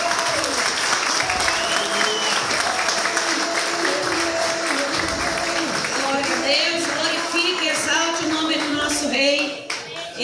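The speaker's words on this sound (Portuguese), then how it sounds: "Aplauda o Senhor bem forte, igreja." A church congregation claps loudly and continuously during a worship service, with the dense applause mixed with voices and lively shouting throughout.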